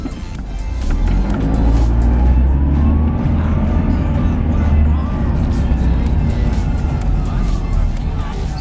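Supercharged Mercedes engine revving loudly up close, a sustained throaty roar with a rising and falling pitch as it is held up and eased off.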